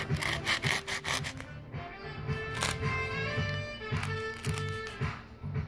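A handsaw cuts through wood in quick rhythmic back-and-forth strokes, loud and close, pausing briefly midway before resuming with the same rasping pattern; no speech.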